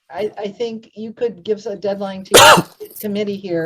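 A single sharp, loud sneeze from a man bursts out in the middle of another person's steady speech in a virtual meeting.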